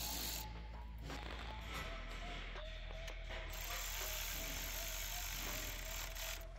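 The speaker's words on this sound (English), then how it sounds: "I'm gonna use a small extension with our Milwaukee ratchet." A Milwaukee ratchet with a small extension tightening the coolant crossover pipe at the thermostat housing of a 2012-2020 Chevy Sonic 1.8L, giving faint, steady pawl clicking back and forth over a low background hum.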